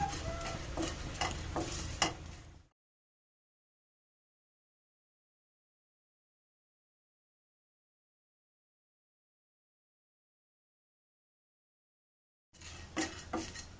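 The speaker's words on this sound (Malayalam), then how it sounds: "നല്ല പോലെ നമുക്കിതൊന്ന് വറുത്തെടുക്കാം" Dried shrimp and mango fry in a pan with a close sizzle and scraping stirs, heard in a short burst at the start and again at the end around a long stretch of silence.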